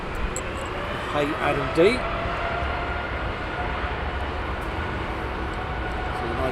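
A United Boeing 787 Dreamliner taxiing at Heathrow Airport gives off a steady, broadband jet-engine roar throughout, and a voice speaks briefly over it near the start.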